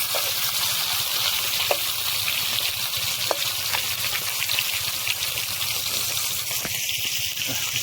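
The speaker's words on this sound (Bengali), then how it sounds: "পুকুরের টাটকা মাছ ভাজা হচ্ছে এখন" Fresh pond fish sizzle in hot oil in a village kitchen, a dense, continuous crackling hiss with occasional sharper pops, close and steady throughout.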